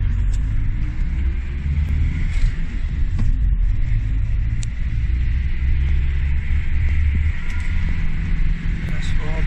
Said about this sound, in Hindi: तो चलिए मैं भी गाड़ी चलाऊंगा